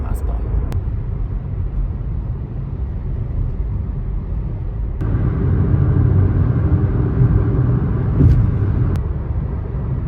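A car being driven on the way to work, a steady low engine and road rumble heard from inside the cabin, growing a little louder partway through, with no speech.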